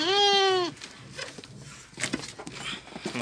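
Anglo-Nubian goat kids bleat, one loud wavering cry at the start followed by softer scattered bleats and shuffling nearby.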